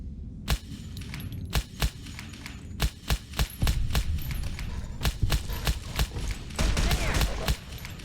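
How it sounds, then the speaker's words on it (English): Gunfire and a grenade blast in Fallout New Vegas on PC, heard as a string of sharp, loud broadband cracks with heavier bursts near the middle and end over a busy combat rumble. "Grenade."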